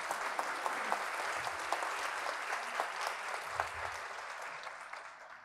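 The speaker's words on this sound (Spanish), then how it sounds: "a quien le ofrecemos un fuerte aplauso" A crowd at a Mexican Navy ceremony applauds steadily for several seconds, a dense patter of clapping at moderate distance that tapers slightly at the end, with no speech over it.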